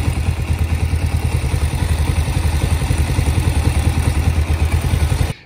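Motorcycle engine running steadily with a rapid, even thumping pulse as it is put into gear, loud and close, cutting off abruptly at the end.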